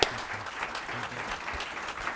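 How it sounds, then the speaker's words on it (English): A short burst of steady audience applause, many hands clapping together at a fairly even level throughout. "Let's give him a big round of applause."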